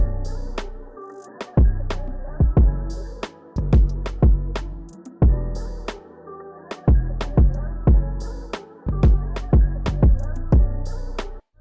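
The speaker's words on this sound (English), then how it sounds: "After that, I added in some hi-hat rolls to fill up the beat a little bit." A looping beat where rapid hi-hat rolls flutter between punchy drum hits and deep bass, filling the groove with quick ticking bursts.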